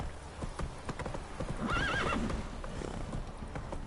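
Horse hooves clip-clop in a steady rhythm in a video game, with a horse whinnying briefly midway through; the sounds are close and moderately loud.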